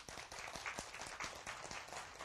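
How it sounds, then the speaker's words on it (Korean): Faint, thin applause from a small audience at a Korean lecture on the Thousand Character Classic: scattered hand claps in an uneven rhythm, distant and sparse. "박수."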